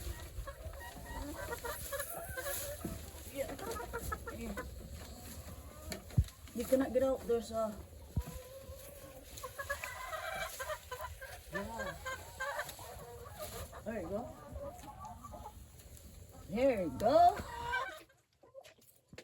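Penned chickens cluck and call in a garden enclosure, a steady murmur of close poultry sounds running under a person's talking, with a louder flurry of squawks near the end before the sound cuts off.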